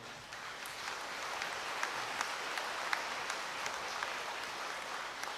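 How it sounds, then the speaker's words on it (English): A congregation applauds at a feast Mass in a shrine basilica, a soft, distant, continuous patter of many hands with a few sharper claps. "Can we give big round of applause to our mother?"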